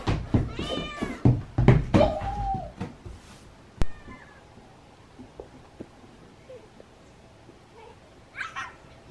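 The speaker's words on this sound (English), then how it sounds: "And there's cats everywhere." Several cats in an office, with a flurry of loud, close meows and rising cries at the start, then sparse knocks, faint movement and a few quieter meows later on.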